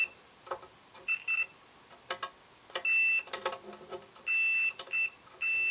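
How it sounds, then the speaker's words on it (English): An Innova 3320 auto-ranging multimeter gives a series of short, scratchy, high-pitched continuity beeps. The bursts come irregularly, some clipped and some held longer, with faint clicks and handling noise between them. "A little bit on the screechy sound, but right around 50 ohms, you're getting a good continuity check"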